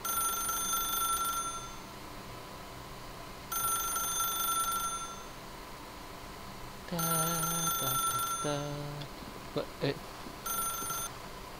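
A telephone rings in the video game The Stanley Parable, its electronic bell sounding in repeated bursts with pauses between, while a narrator's voice talks over one of the later rings.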